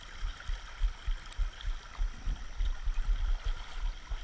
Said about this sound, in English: This creek's really rushing, guys.